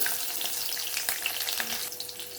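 Steady crackling sizzle of a tempering of cumin, mustard seeds, urad dal, dried red chillies, garlic and curry leaves frying in hot oil, close and continuous with scattered pops, no voices.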